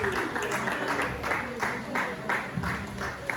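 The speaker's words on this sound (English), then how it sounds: "Please, can we give him a round of applause?" Audience applauding for the artist Don Leo, rhythmic clapping that rises and falls in waves, with a voice speaking over it.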